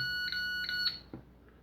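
A short-circuit component identifier probing a faulty electronic circuit board gives two or three steady electronic beeps in quick succession, each cut off cleanly before quiet returns, heard close and moderately loud.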